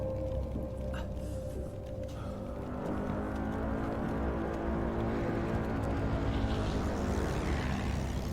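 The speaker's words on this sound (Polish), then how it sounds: "Messerschmitty latały też." A Messerschmitt warplane drones steadily in a video game trailer, a sustained propeller engine hum with layered harmonic tones that swell and thicken over several seconds, loud and continuous without talk.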